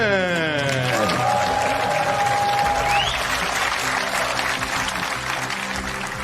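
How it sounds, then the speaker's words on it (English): A packed crowd at the Marshall Arena in Milton Keynes applauds at a Cazoo British Open snooker semi-final, loud, sustained clapping that begins under a brief rising musical tone and then carries on alone. "It's a packed out crowd."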